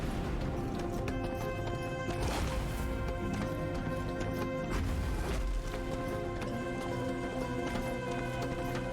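A horse gallops in the video game Darksiders Genesis, its rapid clip-clop hoofbeats running continuously at a quiet level amid game music, with a whinny in the mix.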